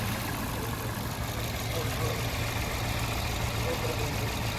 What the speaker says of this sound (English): After unplugging cylinder 1, the RPM has increased to about 900, 950, kind of bouncing around there.